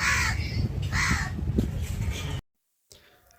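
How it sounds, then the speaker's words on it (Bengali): A crow near a shop by a beach caws loudly and close, with several harsh calls in succession, then a brief quiet gap and a faint trailing sound. "ও বসে বসে শুধু কা কা কা কা করছেই তো করছে"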